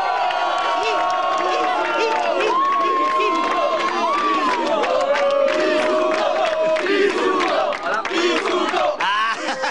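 A loud crowd shouts, whoops and teases continuously in a comedy show studio, dense overlapping voices and yells near and energetic, easing slightly toward the end.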